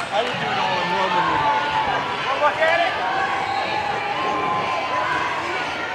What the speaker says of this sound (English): Let's give a round of applause for the Junction City